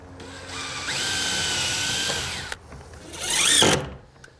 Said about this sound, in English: A pre-drill, about 1 inch in.